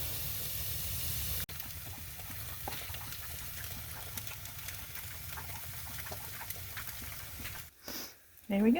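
Silken tofu scramble frying in a pan, a steady soft hiss and sizzle running throughout, cut by a brief louder rustle near the end.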